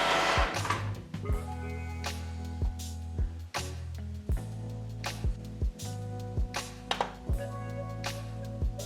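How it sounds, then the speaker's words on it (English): A Canon PIXMA inkjet printer printing an alignment page whirs steadily with a mechanical drone, broken by regular sharp clicks and clacks as the print head shuttles back and forth, close and alone. "For this demonstration, I only print alignment values."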